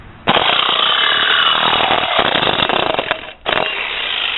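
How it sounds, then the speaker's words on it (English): A reciprocating saw cuts through a steel fire extinguisher shell with a loud, harsh, rattling buzz that runs steadily for about three seconds, pauses briefly, then resumes. "now I'm just gonna take my reciprocating saw and hold it with one foot and just cut it at about 6 to 7 inches"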